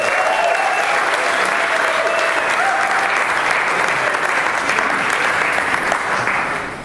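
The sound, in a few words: applause at a wedding reception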